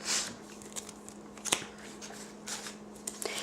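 A deck of Pokemon trading cards is shuffled by hand, giving a series of quick riffling and snapping card sounds up close, with no one speaking.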